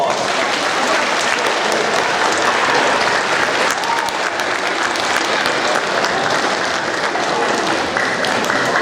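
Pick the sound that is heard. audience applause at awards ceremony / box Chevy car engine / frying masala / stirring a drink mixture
audience applause at awards ceremony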